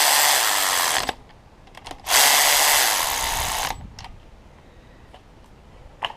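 A power tool drives bolts down on a cracked Honda Civic FA5 Si engine block. It gives two whirring bursts, a short one and then a longer, louder run, followed by a few small clicks.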